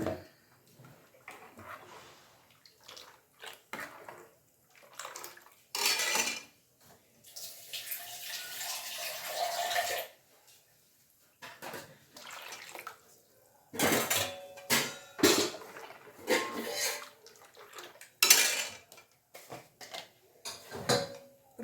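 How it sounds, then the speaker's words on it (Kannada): Water pours into a cooking pot for a Karnataka alsande kalu (black-eyed pea) curry, followed by spoon scraping and metal utensils clinking in irregular close bursts with quiet gaps, no talk. "ನೀರು ಎಷ್ಟು ಬೇಕೋ ಅಷ್ಟು ನೋಡಿ ಹಾಕ್ಕೊಂಡು ಮಿಕ್ಸ್ ಮಾಡಿಬಿಡೋಣ"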